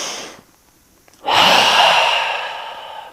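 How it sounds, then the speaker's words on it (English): A deep, audible exhale during a yoga sun salutation sequence, a soft brief breath followed by a long, loud airy breath out that slowly fades, close and unaccompanied by speech. "Now let's take another breath here."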